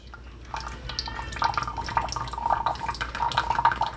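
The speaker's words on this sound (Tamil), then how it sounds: "ஹாட் சாக்லேட்டை இப்போ நம்ம ஊற்றி கொடுக்கலாம் பிள்ளைங்களுக்கு." Hot chocolate, thick and very hot, poured from a vessel into cups for children, giving a soft, steady liquid trickle with faint splashing that grows a little louder as the pour continues.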